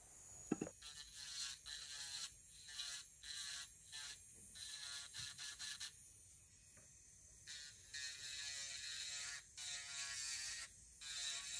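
An electric nail file spins a cuticle skiver bit at about 10,000 RPM, giving a faint, steady high-pitched whine that rises and dips in short bursts as it works around the nail, with no talk.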